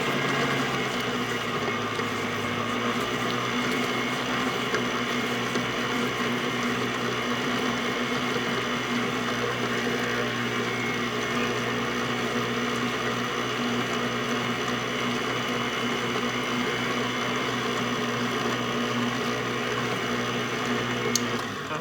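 An electric mixer beats an egg into butter pecan pound cake batter, giving a steady, close, loud motor whir with a constant humming drone that runs unbroken for the whole stretch, with no talking over it.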